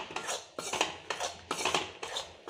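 Gram flour (besan) being stirred and roasted in a pan over a low flame for Mysore pak, a spatula scraping the pan in about five steady strokes, close and clear with no talk.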